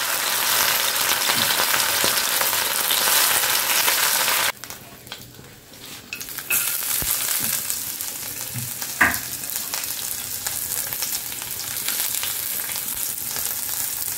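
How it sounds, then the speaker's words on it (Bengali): Chicken manchurian sautés in a pan with a loud, steady sizzle and frying hiss, briefly quieting for a couple of seconds before the sizzling returns, with occasional stirring clatter. "এইভাবে এটা ভালো করে সটে করে নেবে।"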